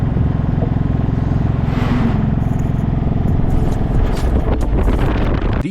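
An auto rickshaw (tuk-tuk) drives along a rural road in southern India between Andhra Pradesh and Karnataka, heard from on board as a continuous loud engine drone mixed with rushing wind.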